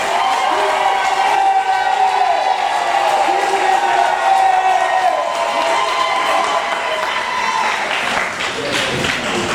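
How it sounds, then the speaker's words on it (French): Wedding guests at a civil marriage ceremony applaud and cheer continuously, a loud, dense wash of clapping and crowd voices throughout, with a tonal voice or music-like line running underneath. "sous vos applaudissements s'il vous plaît."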